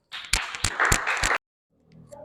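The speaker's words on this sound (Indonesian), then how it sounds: "kita beri aplaus untuk kelompok 3" A classroom of students applauds for a group, a brief burst of scattered clapping, fairly close, that stops suddenly and is followed by faint murmuring.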